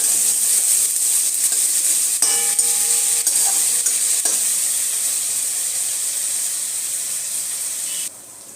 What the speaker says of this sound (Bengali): আদা রসুনের সাথে পেঁয়াজটাকে আরও 2 মিনিটের মতো একটু ভেজে নেব